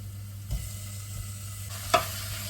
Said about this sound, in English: this is something we call searing, to actually seal the meat so it browns on the outside